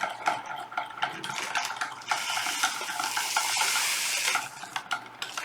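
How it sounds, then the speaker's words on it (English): A spoon stirs orange drink powder from a German 24-hour ration into water, giving close, continuous scraping and clinking against the cup with liquid swirling. "I'll just stir that one up too."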